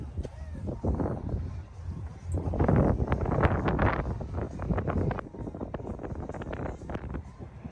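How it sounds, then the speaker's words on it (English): Gusty wind buffets the microphone at the very top of the Amsterdam Lookout tower, a steady rumbling roar that swells and fades in waves, with faint background chatter mixed in. "It was really windy up here"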